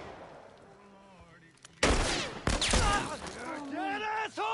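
Gunfire in The Last of Us Part 1: a sharp loud shot bursts in, then another quickly follows, amid close excited shouting and groaning voices.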